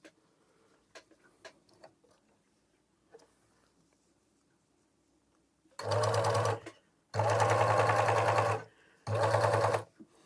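A Victoria HA-4000DF overlock sewing machine runs through fabric in three loud bursts, each a steady rapid mechanical whir, after a quiet stretch with a few faint ticks and handling clicks.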